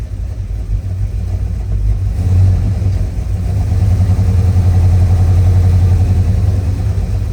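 A 1966 Chevrolet Chevelle engine rumbles on a test drive, a loud, deep, steady drone that swells slightly as the car pulls away, heard close from inside with no talking.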